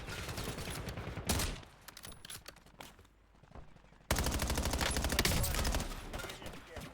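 Video game gunfire crackles in rapid automatic bursts, goes briefly quiet and thin, then returns as sustained fast firing at close range.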